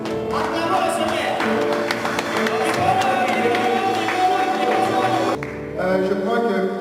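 A congregation at a prayer gathering for the DR Congo in Norway bursts into loud cheering, clapping and shouting praise to the Lord, a dense crowd roar that drops briefly near the end before swelling again.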